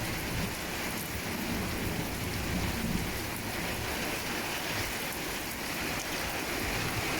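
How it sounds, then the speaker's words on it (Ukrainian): Heavy rain pours during a hurricane, a dense, steady hiss and patter with a low roaring rumble beneath, continuous and loud with no voices. "гул такий в небі стоїть, страшне. Це так гудить."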